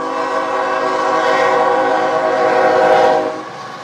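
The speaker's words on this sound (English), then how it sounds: "being hit by an oncoming train" A train rushes past close by, a loud continuous roar with the low rumble of rail cars and a sustained horn-like tone that fades slightly near the end.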